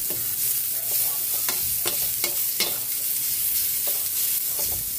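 Ladle stirring food in a sizzling pan, with repeated scraping strokes of metal over the pan surface against a constant frying hiss, close and fairly quiet with no talk.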